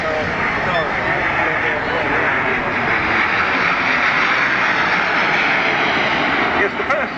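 An aircraft flies past at an air show with a loud continuous roaring jet-like rush that holds steady throughout, while someone talks over it.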